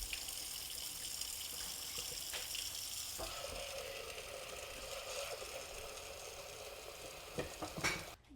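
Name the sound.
washing pigeon peas with water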